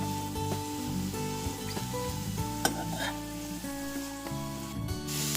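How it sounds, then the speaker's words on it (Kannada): Chopped vegetables fry in butter in a pot for vegetable soup, a steady soft sizzle with occasional stirring scrapes, heard under prominent tonal background music. "ಇದನ್ನೆಲ್ಲ ಬೆಣ್ಣೆನಲ್ಲಿ ತುಂಬ ಚೆನ್ನಾಗಿ ಹುರ್ಕೋಬೇಕಾಗತ್ತೆ."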